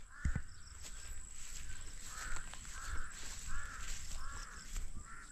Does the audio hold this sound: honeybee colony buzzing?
no